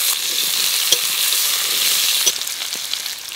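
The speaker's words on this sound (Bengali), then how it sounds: "দেব 5 ফোড়ন, দিয়ে দেব কেটে রাখা আলু আর রাঙা আলু" Potatoes and sweet potatoes fry with panch phoron and dried chillies in hot oil, a loud, continuous crackling sizzle broken by a few light stirring clicks.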